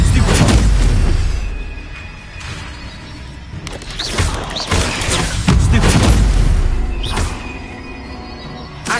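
Incendio fire spell in a Harry Potter video game, several loud, booming whooshing bursts of flame repeating every couple of seconds with clangs in between.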